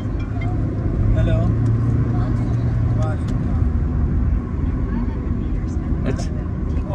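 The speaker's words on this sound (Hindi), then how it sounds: "यहाँ पे ये सारा ट्रैफिक जाम लगा हुआ है" Continuous dense roadway noise from a traffic jam, a steady wash of idling and creeping vehicles with occasional horn-like tones, close and loud throughout.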